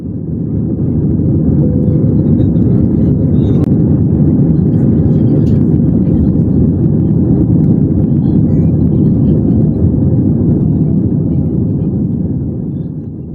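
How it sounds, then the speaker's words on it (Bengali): An airliner taxis slowly along the runway, heard from inside the cabin as a loud, steady low engine rumble that holds throughout. "বিমানটি ধীরে ধীরে রানওয়ে ধরে এগোতে লাগলো।"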